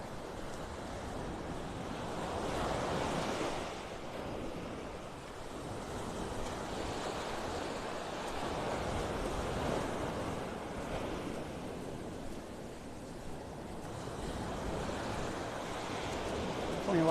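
Ocean waves rolling in on an incoming tide at Vanderbilt Beach in North Naples, Florida, a steady rumbling wash of surf with swells every few seconds and some wind buffeting the microphone, no talking.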